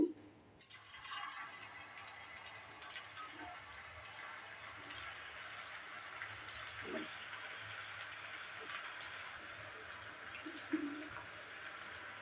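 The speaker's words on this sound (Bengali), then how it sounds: "এখানে গ্যাসটা অন করে একটা কড়াই বসিয়ে দিয়েছি, আর কড়াইয়ের মধ্যে রিফাইন অয়েল দিয়ে অয়েলটাকে ভালোভাবে হিট করে নিয়েছি।" Suji potato snacks dropping one by one into hot refined oil in a kadai, giving a steady, moderate sizzle and crackle that holds through the whole stretch with a few small splashy pops.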